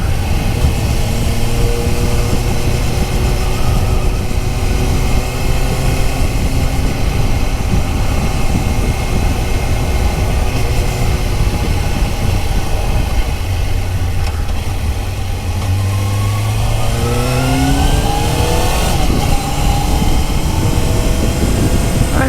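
A Suzuki GSX-R600 SRAD inline-four motorcycle engine revs up and down continuously at close range, with pitch dropping then climbing in steady sweeps, loud and alone without talk.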